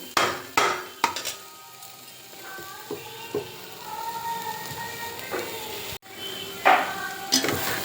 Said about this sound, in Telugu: ఇట్లా అడగంటకుండా ఒక రెండు నిమిషాలు ఫ్రై చేయండి